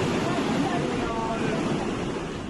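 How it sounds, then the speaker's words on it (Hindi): Muddy brown floodwater torrent in Himachal Pradesh sweeping several cars along, a steady, dense roar of rushing water close by with no breaks, broadband and continuous throughout. "गंदे भूरे पानी की उफनती धाराएं कई कारों को अपने साथ बहा ले जा रही है।"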